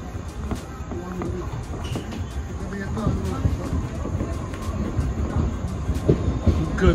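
Rumbling, clattering train noise on a Pune to Kolhapur rail route, steady and fairly loud throughout, with people talking nearby over it.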